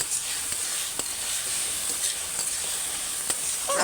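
Chanpa lote greens curry sizzling steadily in a pan while being stirred, a constant bright hiss with occasional scrapes and clicks of the spoon against the metal, close and alone.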